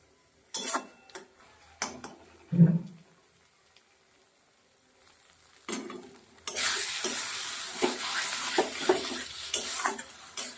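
Cauliflower fries over medium heat in a pan while a spoon stirs and scrapes it, scattered sharp clacks at first, then a steady loud sizzle punctuated by repeated stirring knocks.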